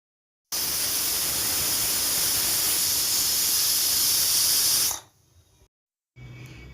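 A pressure cooker with chicken inside lets out a loud, steady rushing hiss of steam for several seconds, then cuts off abruptly, followed by a quieter hiss.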